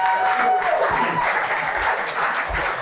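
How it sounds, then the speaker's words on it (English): Audience applause at an in-person sales leadership event, a dense steady round of clapping from a crowd lasting the whole stretch, with some voices mixed underneath. "Can we have a round of applause for Richard from Drift, please?"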